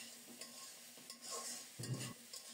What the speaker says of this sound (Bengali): মশলার সাথে সবজিগুলোকে খুব সুন্দরভাবে কষিয়ে নেব।